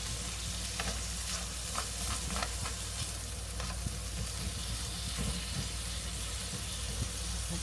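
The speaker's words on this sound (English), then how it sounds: "I'm going to stir this up. I'm going to use a tongs." Thinly sliced cheesesteak meat frying on a hot surface, stirred and broken up with tongs: a constant dense sizzle up close, with light scraping and clicking of the tongs scattered through it, no voices.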